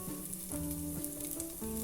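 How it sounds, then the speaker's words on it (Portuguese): Chopped onion sautés in a pan for a chicken pie filling, giving a soft continuous sizzle with faint stirring, close and steady, with tonal background hum and no talk. "eu vou primeiro refogar a cebola"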